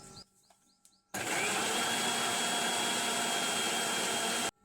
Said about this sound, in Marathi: आणि मस्तपैकी आता ग्राइंड करून घ्यायचं